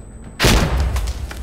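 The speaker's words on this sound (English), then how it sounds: "Grenade." A grenade detonates in the Insurgency Sandstorm video game, a single loud, close boom with a sharp onset that decays into a rumbling, crackling tail.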